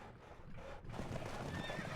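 Horses of a cavalry troop neigh and hooves clip-clop in the Cossacks: Battle for Europe strategy game, a whinny rising over busy battlefield ambience, moderately loud and continuous.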